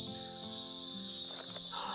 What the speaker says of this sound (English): I'm sure you can hear by the cicadas going crazy